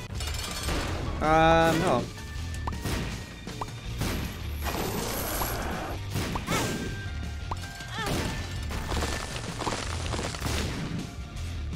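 Repeated game explosions from The Binding of Isaac: Repentance, homing blasts bursting in quick succession during a fast boss fight, loud and dense with crashing impacts throughout, mixed with game music and effects.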